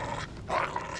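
A dog gives a low, rough growl, close and fairly quiet, lasting about a second, in a scene from a 1993 British police drama.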